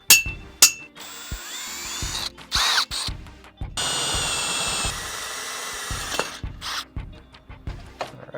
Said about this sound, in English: we're going to start by drilling above and below where we want our cut line